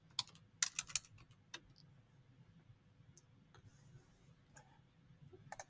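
Typing on a computer keyboard while entering data into SimaPro LCA software: quiet, scattered key clicks in short clusters, a quick burst near the start, then sparse single taps over a low background hum.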